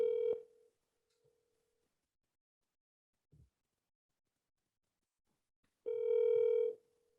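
Outgoing call on a telephone, with two ringback tones about six seconds apart, the second ring long and steady. A few faint clicks fall between them in otherwise near silence.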